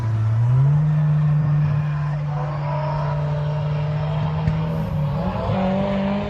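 A 1000bhp drift car's engine drones loudly on track at Castle Combe, holding a steady high rev with a brief step up in pitch, then wavering as it carries on; no voices.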